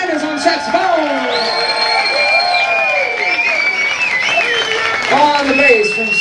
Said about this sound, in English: I want y'all to keep that round of applause going.